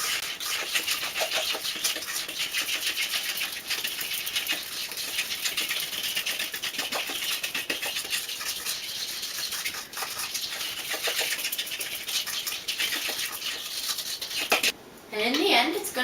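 Vanilla is stirred into cookie batter in a bowl with a utensil, a continuous soft scraping and pattering beneath a speaking voice, close and steady throughout.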